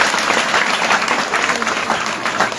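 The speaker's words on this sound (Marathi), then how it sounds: "सर्वजण डॉक्टरांना एकदा जोरदार टाळ्या वाजवू सगळं." An audience in a mind-training session claps for a doctor, a dense, sustained burst of applause from many hands, close and lively throughout.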